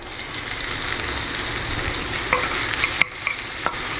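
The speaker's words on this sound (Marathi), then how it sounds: "कांदो लायक करून गोल्डन ब्राउन जावो" Onion frying in a pan for quinoa upma, a steady dense sizzle with occasional clicks and scrapes of a stirring spoon, close and continuous.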